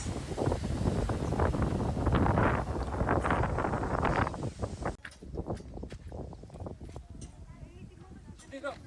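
Strong wind in a village roars and buffets against the microphone for several seconds, then suddenly drops away, leaving quieter outdoor ambience with light scattered knocks and clatter.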